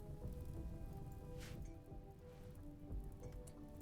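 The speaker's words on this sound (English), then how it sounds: "And it's raining." Rain falls in the video game Rimworld as a steady, dense hiss of drops across a surface, continuous and fairly loud, with a low rumble beneath and no talking.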